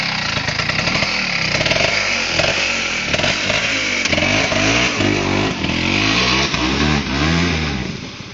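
A Vespa scooter engine revs hard and repeatedly, the pitch swinging up and down in quick bursts, loud and close with no talk over it.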